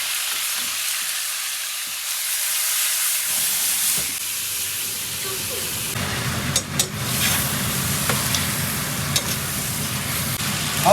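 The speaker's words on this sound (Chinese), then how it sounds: "油热把鱼倒进去" Fish tipped into hot oil in a wok sets off a loud, steady sizzle that swells after a few quiet seconds and keeps hissing and crackling close by, with no talking.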